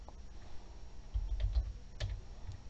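Computer keyboard typing, a run of soft, quick key taps close by at low volume, with irregular rhythm and a brief cluster of firmer presses midway.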